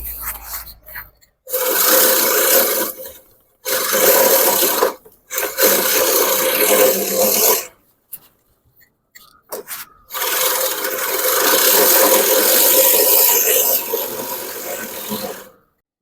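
An Einhell GC-HM 300 manual reel mower cuts soggy wet grass in repeated close, raspy whirring bursts separated by short pauses, with no talking.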